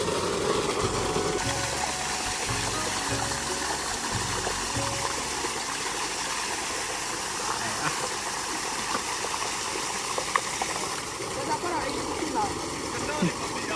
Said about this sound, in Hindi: ये ट्यूबवेल है, तो नहाते हैं